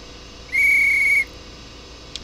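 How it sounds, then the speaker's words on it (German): A train conductor's whistle at departure in Train Simulator 2018, on a BR 101 Eurocity run from München to Rosenheim: one steady, shrill whistle blast of about three-quarters of a second, clear against a quiet cab hum, followed by a faint click. "Der Schaffner hat gepfiffen."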